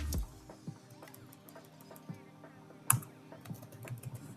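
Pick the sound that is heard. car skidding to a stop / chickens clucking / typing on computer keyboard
typing on computer keyboard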